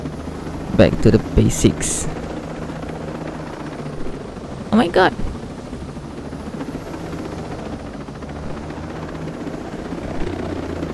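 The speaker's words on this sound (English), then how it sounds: "I wanna keep this helicopter." A helicopter in the video game Ghost Recon Breakpoint gives a continuous low rotor drone throughout, with a player talking over it and a few sharp bursts of other game sounds.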